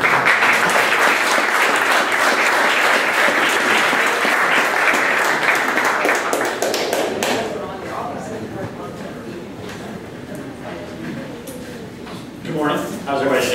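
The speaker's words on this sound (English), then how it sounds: "please give him a warm round of applause" A large business-meetup audience gives a loud, sustained round of applause for an incoming presenter, dense and steady for about seven seconds before thinning into scattered claps and room murmur.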